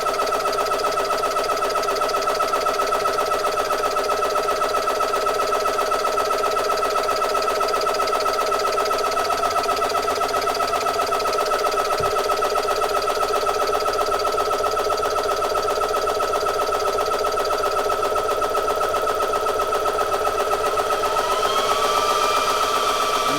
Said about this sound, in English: there goes the high-speed fan